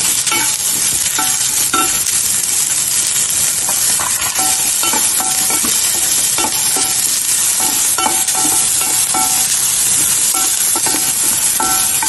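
Onions and curry leaves sizzling and crackling in hot oil in a pan for a South Indian dish, a loud, steady fry with bursts of stirring throughout and no talking.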